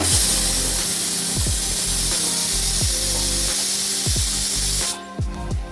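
Meat dropped into a hot pan for Bengali biryani-style cooking, giving a loud, steady broadband sizzle with scattered clicks and scrapes that runs close and continuous before easing off at the end.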